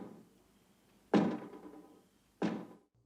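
A door banging in a horror film: two heavy, resonant thuds about a second apart, each ringing briefly before fading into near silence.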